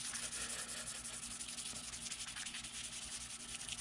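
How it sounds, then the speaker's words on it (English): Wet sanding with 400 grit sandpaper over the original fuel cap of a 1983 Suzuki GS 1100E motorcycle makes a soft, continuous rhythmic scratching and rubbing, close and fairly quiet, with no voices. "I'm just using the 400 grit to go over the top of it here."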